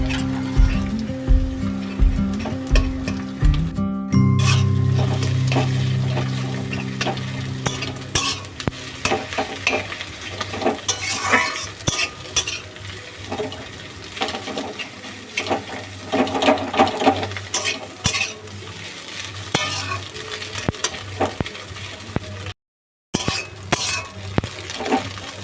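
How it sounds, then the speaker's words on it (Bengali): Egg frying and being stirred in a pan while making restaurant-style chowmein, a steady close sizzle with scraping and clinking of a utensil against the pan throughout, preceded by a few sharp knocks at the start. "এবার ডিমটা একটু ভালোভাবে ভেজে ভেজে নেবো।"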